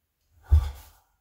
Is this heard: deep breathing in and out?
yes